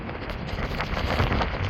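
A dense, loud rush of storm wind at night in Jurmala fills the clip, a continuous roaring noise with gusting swells and no voices.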